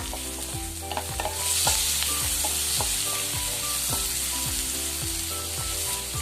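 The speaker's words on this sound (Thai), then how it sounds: "ตามด้วยหอมใหญ่ที่ซอยจ้ะ แล้วก็ผัดนะจ๊ะ" Sliced onions are stir-fried with shrimp in a hot pan. A steady loud sizzle carries a regular rhythm of repeated scraping, tapping strokes from the stirring utensil, with no voices.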